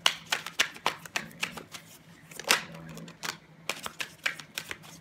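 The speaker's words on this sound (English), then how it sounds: "last time I'm shuffling, I don't want to shuffle anymore." A deck of tarot cards is shuffled by hand, giving quick repeated riffling and flicking bursts in an irregular rhythm, close and fairly clear, with a faint steady hum beneath.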